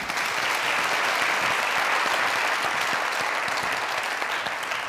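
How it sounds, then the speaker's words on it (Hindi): A studio audience on a comedy talk show breaks into sustained, dense applause, loud and steady throughout as a guest is welcomed on stage. "आपकी बहुत सारी तालियों में मैं दावत दूंगा सलीम मिराज साहब को प्लीज"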